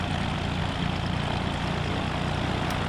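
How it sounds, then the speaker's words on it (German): Pink propeller airplane in the game DayZ droning steadily overhead, a continuous low engine hum with broadband rumble that holds level for the whole stretch, no voices. "Da ist ein Flugzeug, ein pinkes."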